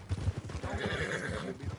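A horse whinnies in Red Dead Redemption 2, a loud close neigh with hoof clip-clop thudding steadily underneath through the short stretch.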